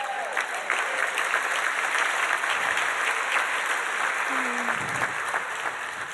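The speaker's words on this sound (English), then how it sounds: "I got applause for being a graduate." Sustained applause from a dinner audience fills the room for a recent university graduate at a heritage society dinner, steady and dense throughout with a few faint voices underneath.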